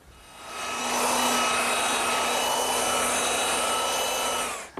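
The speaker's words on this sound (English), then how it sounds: "scrape off the excess glue and lightly sand both sides" A power sander working glued-up wood panels for a chair seat, a steady high whine with broadband abrasive hiss that starts up, holds loud and continuous, then cuts off at the end.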